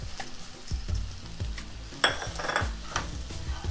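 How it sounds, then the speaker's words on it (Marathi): Grated radish tipped into a hot oiled pan for a Maharashtrian radish bhaji, giving a soft sizzle with stirring scrapes and a few utensil clinks against the pan, close and fairly quiet. "आता आपण मुळ्याचं किस टाकणार आहोत"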